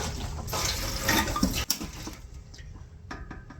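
Water pours from a tap into a plastic Tupperware container at close range, splashing and gurgling for a couple of seconds before it cuts off and a few soft drips follow.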